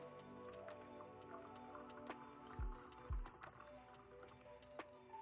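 Hot water is poured into a hot lather machine, a soft, faint trickle with light drips and a couple of low splashy glugs in a quiet room.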